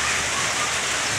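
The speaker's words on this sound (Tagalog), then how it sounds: "So actually kagabi pa itong ulan hanggang ngayon" Steady rain falls in a continuous, even hiss, close and fairly loud with no other sounds standing out.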